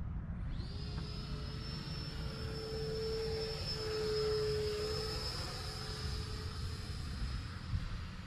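A Fly Fans Red Falcon K-8 RC model jet passes overhead with a steady high electric ducted-fan whine, holding fairly loud and rising slightly near the middle before easing off, over outdoor background noise.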